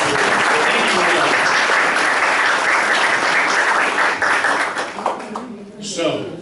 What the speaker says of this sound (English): So a big round of applause to the club for the tremendous support.